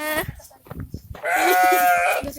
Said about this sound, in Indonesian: Wah, kambing.